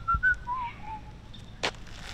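A man whistles a short, faint tune of a few sliding notes, with a brief sharp click near the end.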